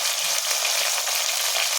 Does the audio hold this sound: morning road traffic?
no